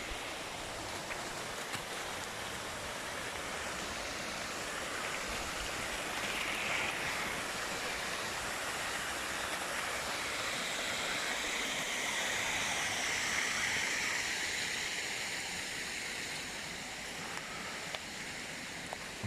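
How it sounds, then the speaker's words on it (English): Water runs steadily down a stream on a walk toward the Little Don River near Underbank Reservoir, a continuous rushing wash with wind noise mixed in and no talk. "Look at this water down here now flowing."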